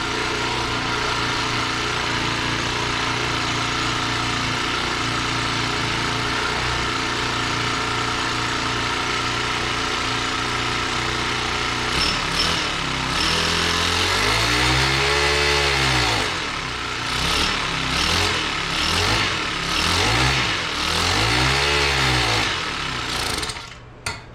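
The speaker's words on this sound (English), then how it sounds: "I'm going to pull it up on its kickstand and we'll rev it up, see how it sounds." Motorcycle engine, apparently an older two-stroke, propped on its kickstand, idles loudly and steadily, then is revved several times in rising and falling swells before settling back, close and alone.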